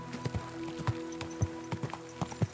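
Horse hooves clop in Kingdom Come: Deliverance 2, a steady series of close, distinct hoofbeats at a walking rhythm over a faint hum.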